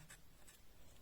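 Faint scratching strokes on a board during a chemistry lecture, two brief marks within about a second over a hissy, quiet room background.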